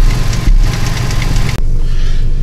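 A Toyota Tacoma fitted with an LCE header and Borla cat-back exhaust rumbles loudly and steadily up close, a deep continuous engine drone with a brief dropout near the end.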